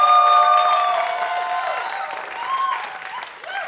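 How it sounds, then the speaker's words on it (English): A live audience gives a loud round of applause and some cheering for three performers at a show, with held musical tones ringing over the clapping as it gradually thins out. "can we give another round of applause for those three amazing performers?"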